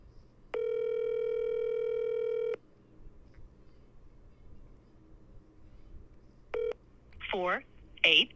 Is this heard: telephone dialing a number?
yes